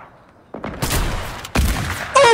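Sniper rifle shots in a trick-shot video game session, two sharp loud cracks with ringing tails about a second apart, followed by a louder burst of game noise at the end.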